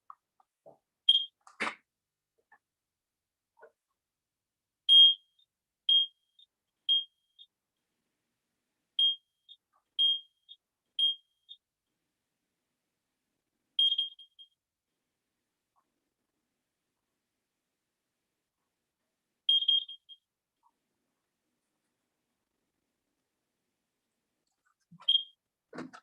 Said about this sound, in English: you will hear 6 loud beeps, followed by 3 low beeps, followed by 3 loud beeps